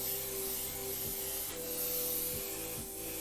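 An airbrush sprays paint onto a shirt, giving a continuous soft hiss over a low steady mechanical hum, with no speech.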